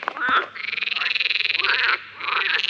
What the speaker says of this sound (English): That's the next pond. Full of frogs.